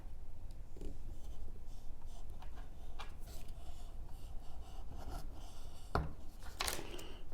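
A fixed blade Eafengrow EF152 knife dragging through a thick plastic strap, making faint, close scraping and rasping strokes in uneven bursts, with one sharper snap near the end.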